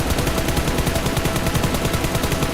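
Rapid automatic gunfire from a BGMI/PUBG Mobile practice session, a continuous, evenly spaced burst of loud sharp shots rattling on without pause for the whole stretch.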